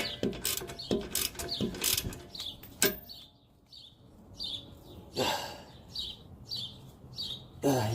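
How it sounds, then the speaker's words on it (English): A hand ratchet clicks in quick bursts, loosening a nut that holds a strap while fitting lowering springs to a car, close and crisp, with a short pause midway and chirping birds in the background. "next we gotta remove this nut right here that's holding this strap"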